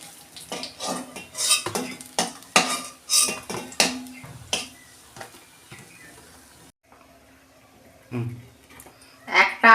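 Fried fish-roe fritters are lifted out of a pan of oil. A metal spatula clinks and scrapes against the pan in quick uneven knocks, close by, with soft frying underneath and a brief pause before more scraping.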